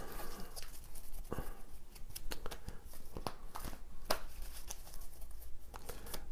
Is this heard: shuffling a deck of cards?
yes